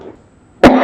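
One short, sharp cough sounds close up after a moment of near silence.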